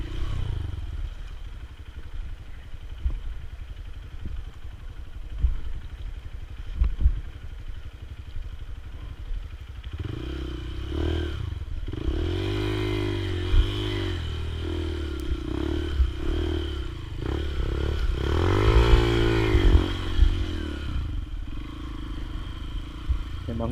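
A trail motorcycle rides through a river on a Hambalang–Cisadon off-road trail, its engine revving and straining over rushing, splashing water that swells louder midway and stays loud and close.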